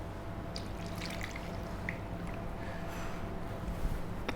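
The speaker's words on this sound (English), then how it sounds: "And the pineapple juice from the can." Pineapple juice from a can trickles and splashes into a pan of chicken with pineapple, a soft continuous liquid pour with a few drips, faint against the kitchen's background noise.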